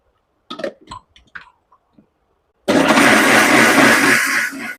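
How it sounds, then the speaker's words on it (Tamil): A kitchen mixer grinder runs loud and close, grinding soaked rice and fenugreek with water in its jar, a steady whirring roar of about two seconds that follows a few soft clicks and knocks. "நம்ம ஊற வச்சிருக்க அரிசியையும் வெந்தயத்தையும் நம்ம ஜாரில் மாற்றி அரைச்சி எடுத்துக்கலாம் நான் மிக்சியில் தான் அரைச்சி வெந்தய களி செய்ய போகிறேன்"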